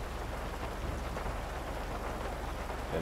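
Steady, even rain patters on the roof of an old boxy Chevy car in GTA Online, filling the scene as a dense, constant wash with no voices.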